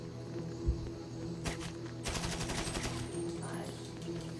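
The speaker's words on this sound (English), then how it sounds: "The gun is too loud" Gunfire in GTA 5 Online during a Cayo Perico heist: a single sharp shot, then a rapid automatic burst that rattles for about a second, fairly close, over a steady low background drone.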